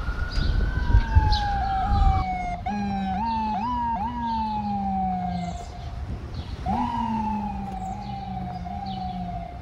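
Ambulance sirens wail on a quiet city street during the coronavirus lockdown, rising and falling in repeated sweeping tones at moderate distance, with overlapping wails and no talk.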